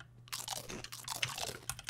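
Crunchy chewing bites in Minecraft, a rapid run of close, crisp munching sounds filling the short moment.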